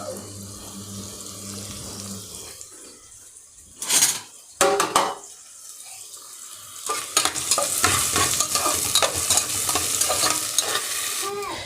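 Chicken for a Bangladeshi chicken curry cooks and is stirred in a pan, first a quiet simmer, then loud bursts of running tap water, followed by steady sizzling and scraping of the stirring.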